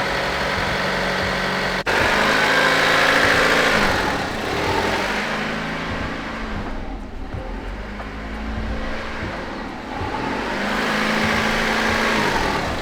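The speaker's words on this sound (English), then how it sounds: "let's start it up, I guess. Let her warm up a bit" A Honda Civic engine, with its misfires recently cured, cranks and catches within the first two seconds. It then settles into a steady, close idle with a low, even hum.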